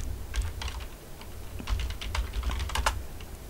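Someone types a search on a computer keyboard, producing quick, uneven bursts of clicking keystrokes, close and clear, with no speech.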